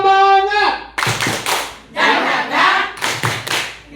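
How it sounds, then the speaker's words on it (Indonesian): Rhythmic group clapping in a school spirit-clap routine, sharp synchronized bursts of claps in patterned sets after a short sung or chanted voice at the start, with children's voices mixed in. "Tepuk semangat."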